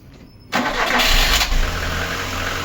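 A Lada 1118 1.6 car engine cranks and catches after cylinder head repair, roaring up loudly before settling into a steady, rough idle.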